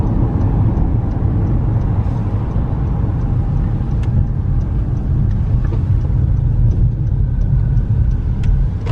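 A car travels along a highway up Arizona's Mogollon Rim, heard from inside as a loud, constant road rumble and engine drone with faint ticks and rattles.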